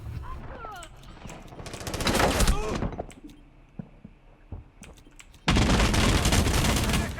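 Gunfire in Rainbow Six Siege crackles in scattered bursts, sharp single shots and short volleys at varying distance, with a heavy sustained burst near the end; voices talk excitedly between the shots.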